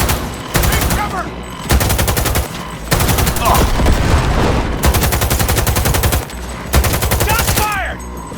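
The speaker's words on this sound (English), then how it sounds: "Shots fired!" Cyberpunk 2077 gunfire crackles in rapid automatic bursts, several loud volleys separated by short pauses, with faint in-game voices in between.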